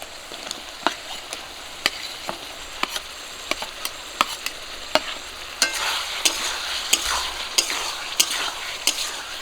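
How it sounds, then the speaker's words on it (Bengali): Fried potato and taro are sautéed in masala in a pan under a constant sizzle, punctuated by a regular series of sharp spatula clicks and scrapes as the mixture is stirred; no talking. "আলু আর কচু দিয়ে মশলাটা কিছুক্ষণ একটু কষিয়ে নেব।"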